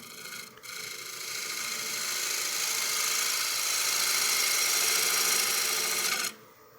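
A wood lathe spins while a gouge slices slowly across the end grain of a cake stand near its edge, giving a steady rasping, scraping hiss that swells and holds before stopping abruptly.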